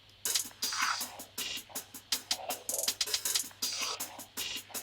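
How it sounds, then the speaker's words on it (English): A layered percussion loop drops back into a beat, with crisp repeating hits and hat-like ticks riding over a steady low bass tone in a tight, driving rhythm. "So layer that percussion loop back in,"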